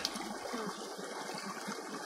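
Water from a stream rushes steadily and close, a continuous gushing flow filling the whole moment with no voices.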